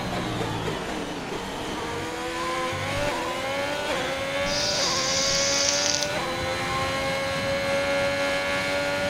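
Formula One single-seater engine in a racing video game at the Russian Grand Prix, with steady high-pitched revving climbing through the gears, briefly dropping on shifts, loud and continuous without talk.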